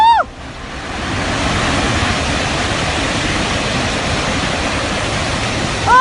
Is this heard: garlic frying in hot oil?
no